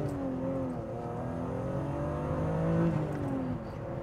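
BMW E36 M3 with a straight-six engine, a smooth steady engine drone with rising and falling harmonic tones as it revs, heard from inside or near the car without talk.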